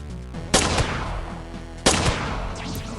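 Two sharp, booming gunshots in the video game MazeQuest 3, about a second and a half apart, each followed by a long rumbling decay with a quieter tail.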